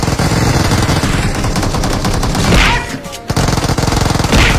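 Shotgun fire in PUBG arrives in loud, dense, rapid bursts, with brief pauses between the volleys as the shooting rattles on continuously.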